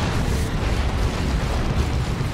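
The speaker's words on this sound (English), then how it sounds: "Is that a rocket run or a creeping barrage? It's a creeping barrage from the Lord General." Creeping artillery barrage in the strategy game Dawn of War 2, a dense, continuous roar of overlapping explosions and rumbling booms that stays loud and steady throughout, with no voices.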